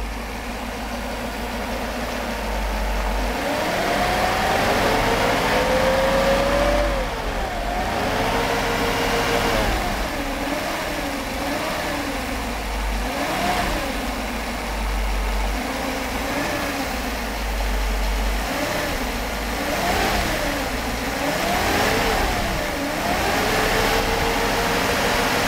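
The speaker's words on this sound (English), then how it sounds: "It's the actuator that controls the idle and throttle, so it does work fine." Idle of a Mercedes 500SL engine controlled by its throttle actuator, a steady close engine drone whose pitch rises and dips in slow repeated swells.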